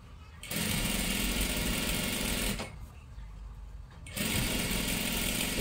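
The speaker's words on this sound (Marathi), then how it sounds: "इथे बघू शकता एकदम कडेकडेला शिलाई मारून घ्यायची आहे" A sewing machine stitching a fabric strip onto a dress sleeve, running in two close, steady whirring bursts with a brief slower pause between them.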